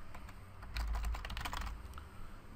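A computer keyboard is tapped in a quick run of keystrokes as a first and last name are typed, close and fairly quiet against a faint room hum.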